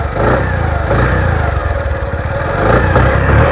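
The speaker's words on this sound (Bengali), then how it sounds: "বিহার গাড়িটি স্টার্ট দেওয়া হয়েছে দেখেন ইঞ্জিনের সাউন্ডটা দেখেন" A used motorcycle engine idles after being started, a steady close, loud putter with a fast even exhaust pulse running throughout.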